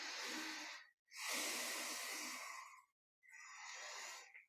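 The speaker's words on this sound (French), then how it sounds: "on respire bien fort" Three deep, slow breaths during a guided meditation, each a long airy rush in and out, close and alone, separated by brief silences.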